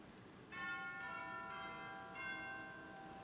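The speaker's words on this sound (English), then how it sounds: "we have chimes" Orchestral chimes struck in an auditorium: several bright, bell-like metallic tones ring out one after another and sustain, overlapping in a moderately distant, roomy space.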